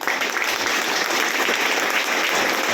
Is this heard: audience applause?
yes